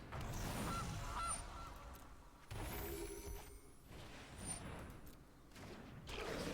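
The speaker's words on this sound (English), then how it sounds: "Goose." A goose honk from a card in MTG Arena, loud honking calls with a noisy flutter, repeated in uneven bursts over a continuous busy background.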